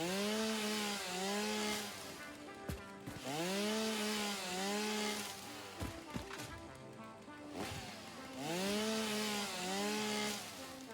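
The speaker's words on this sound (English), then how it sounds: "You do also need the chainsaw to take down larger objects, like trees." Repeated rising and falling revs of a chainsaw cutting down trees in the video game Satisfactory, in several bursts with brief pauses between, fairly quiet and free of speech.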